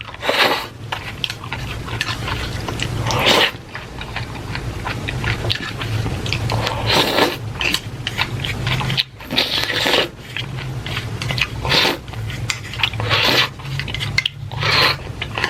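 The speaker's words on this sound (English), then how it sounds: "Hopefully these chopsticks aren't like too loud. It's like scrape, scrape, scrape." Chopsticks scraping and clicking against a bowl while eating, dense close rubbing and chewing sounds in busy bursts with brief pauses, loud and up front.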